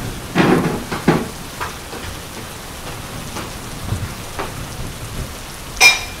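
Steady rain patters on a surface, with a few louder splashes and a sharp crackle near the end; no voices.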